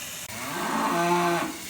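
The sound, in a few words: cattle mooing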